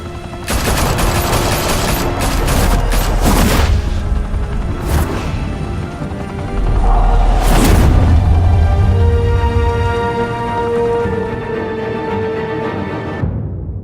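Gunfire in Batman: The Telltale Series, a loud, dense fusillade of rapid automatic shots with sharp bursts and booming impacts, then fading into a low rumble and tonal score.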